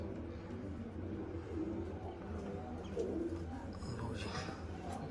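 Soft pigeon coos repeat under a steady background murmur, with a few faint chirps; the birds sound fairly close but quiet.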